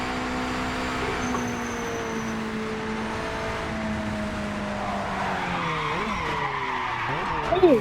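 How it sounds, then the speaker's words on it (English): A race car in the Project Motor Racing video game spins out at High Rock Circuit, its sustained engine whine wavering and dropping as the tires skid and squeal, growing rougher toward the end with no talking. "When we had our first spin out."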